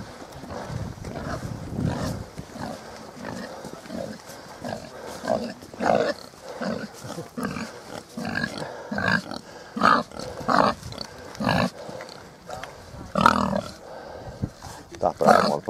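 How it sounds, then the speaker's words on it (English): A pig coming over on rural farmland, giving low repeated grunts and snorts at close range, mixed in with people talking outdoors. "Can't beat a pig for clearing up the land."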